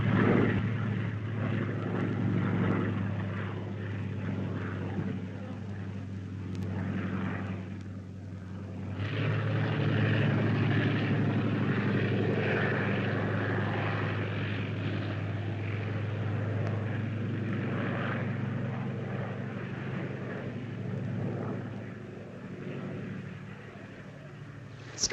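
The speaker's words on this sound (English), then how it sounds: "Scouting plane. Diesel Storch." A propeller-driven Fieseler Storch scouting plane drones steadily overhead for the whole stretch, its engine hum loud and sustained with a slight swell partway through.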